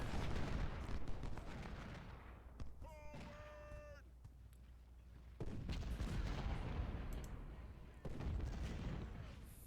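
Heavy booming rifle and cannon fire from an American Civil War video game rumbles continuously, with a brief tonal game chime in the middle; no talking.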